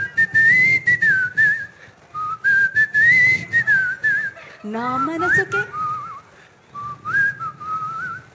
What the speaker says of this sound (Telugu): విజిల్తో పాడాలి